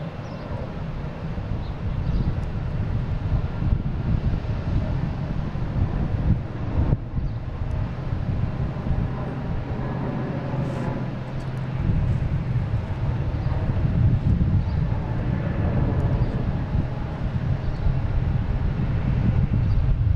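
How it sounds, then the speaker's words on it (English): Airbus A321neo airliner at Boston Logan airport, a steady low jet engine rumble heard from a distance under buffeting wind noise, swelling slightly louder toward the end. "Flight 1620, A321neo, heading to London Heathrow."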